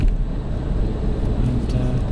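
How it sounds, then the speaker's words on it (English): An LPG-converted Vauxhall Astra cruises in fifth gear at about 2000 rpm and 40 mph, giving a steady, low engine drone and road rumble heard from inside the cabin, continuous and unbroken with no talking. "happily ticks along in 5th gear, 2000 revs, 40 miles an hour"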